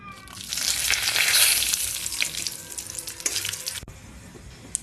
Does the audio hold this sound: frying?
yes